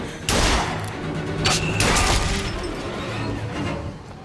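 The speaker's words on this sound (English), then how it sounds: "Shoot off his helmet and then get him good with the hand cannon." Hand cannon shots in BioShock Infinite, a few heavy booming blasts in quick succession with crashing debris and rumbling reverberation, loud and close.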